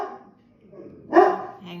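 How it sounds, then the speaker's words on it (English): A dog gives a single sharp bark close by, after a brief whine, heard indoors. "Excuse the dog."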